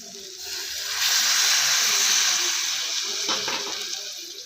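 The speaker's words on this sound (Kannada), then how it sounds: "ಇವಾಗ ನೀರು ಹಾಕ್ಕೊಳ್ಳೋಣ" Water is poured into a pan of frying cluster beans prepared North Karnataka style, giving a broad steady hiss and sizzle that swells and then slowly fades over several seconds.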